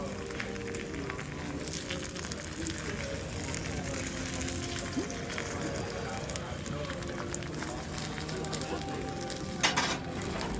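Food sizzles on a Korean BBQ grill, a steady crackling hiss that runs throughout at close range, with people chatting over it in a busy restaurant.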